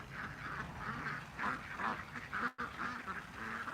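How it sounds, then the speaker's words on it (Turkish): Ducks quacking beside a backyard fish pool, a run of nasal calls repeating at close range with a short break near the end. "Ördekler havuza girmek istiyor arkadaşlar"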